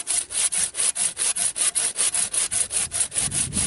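Hand saw cutting across a fruit tree trunk prepared for cleft grafting, with steady, rhythmic back-and-forth strokes, loud and close, about four strokes per second, with no talking.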